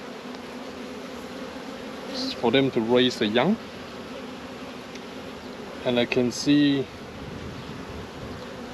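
Honeybees hum steadily at an open hive frame holding stored pollen, a constant buzz that carries on beneath two short bursts of someone talking.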